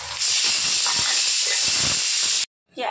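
A pressure cooker on the stove releasing steam in a loud, continuous close hiss that cuts off abruptly near the end, no talking.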